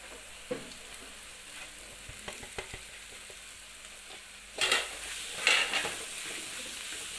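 Tender tamarind leaves fry in hot oil in a pan, a steady soft sizzle broken by scraping stir strokes, with louder bursts of sizzling and stirring near the end; close by, no talking.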